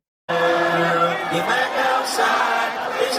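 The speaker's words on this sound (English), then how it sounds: "Guys, hear that crowd." A large concert crowd in Mexico City cheers and yells at a show. The roar starts abruptly and stays loud and sustained, with whoops and shouts rising out of the dense wall of voices.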